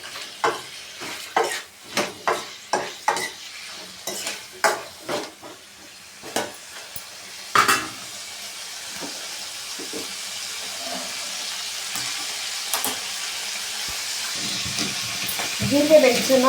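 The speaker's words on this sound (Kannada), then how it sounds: "ಇವಾಗ ಚೆನ್ನಾಗಿ ಫ್ರೈ ಮಾಡ್ಕೊಬೇಕು ಇದು" Spices fry in a pan for chicken garlic sambar. Sharp taps and clicks of stirring come first, then a soft, steady sizzling hiss builds and carries on.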